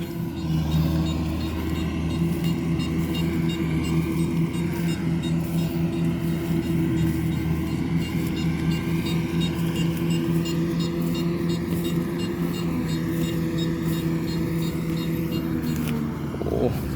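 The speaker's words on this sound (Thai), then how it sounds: "รถเกี่ยวคูต้า 105x นะครับ" A Kubota 105X combine harvester engine runs at a steady, loud low drone with a constant mechanical hum throughout, while someone talks over it nearly the whole time.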